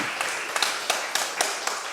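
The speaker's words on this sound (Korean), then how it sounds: "우리 저 자매한테 박수 한번 주세요" A church congregation claps in a steady, evenly spaced rhythm, each beat a crisp, sharp burst of many hands, close and moderately loud.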